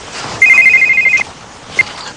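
A telephone rings with one sustained electronic trill lasting under a second, then a short second chirp after a pause. No voices are heard.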